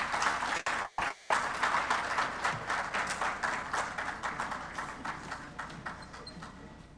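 Audience applause at a steel industry forum, a dense steady wash of many hands clapping that runs throughout with a brief dip near the start, moderately loud and without talk.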